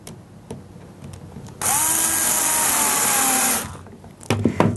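A power drill drives screws to mount a replacement motor in a Flymo lawnmower, with one steady whirring burst of about two seconds, close and loud, followed by a few clicks and handling knocks.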